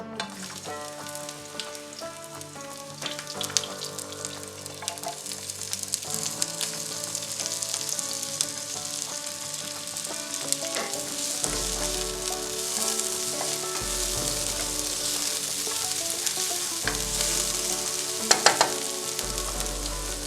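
Onions frying in a pan for cauliflower fried rice give a steady, close sizzle that runs throughout over background music, with a few louder crackles and low thumps near the end.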